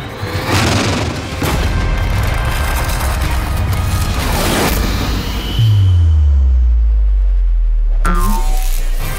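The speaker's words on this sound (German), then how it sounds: "Gilgamesh schaltet sein kosmisches Exoskelett ein. Und Thena aktiviert ihre kosmischen Waffen." Gilgamesh's cosmic exoskeleton and Thena's cosmic weapons power up in an Eternals animated scene, giving loud booming, mechanical whooshes and dense impacts, then a deep descending rumbling hum and a sharp final burst.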